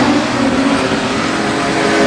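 Street stock race cars at Redline Raceway in Australia, a loud sustained multi-engine roar as the pack powers out of a turn together, droning close by with no pause.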